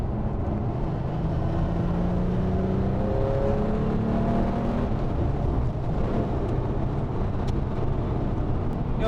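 A Gunther Werks Porsche 993 restomod coupe accelerates, its engine note rising steadily through the gears from inside the cabin, a continuous loud drone with no talking.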